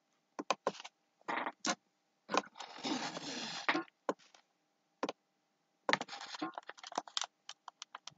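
Typing on a computer keyboard in short bursts of quick clicking keystrokes, one longer run of rapid typing in the middle, separated by brief pauses, close and fairly clear.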